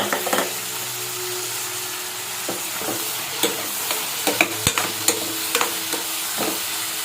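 Onion, tomato, kasuri methi and vegetables cooking in a pan for palak paneer rice, a soft continuous sizzle with scattered spatula scrapes and taps, busier toward the end.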